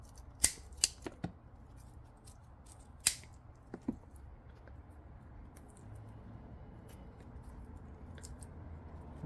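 Pruning shears snip through dahlia tuber stems while a clump is being divided, a handful of sharp close clicks bunched early in the clip, then quiet handling noise with no talk.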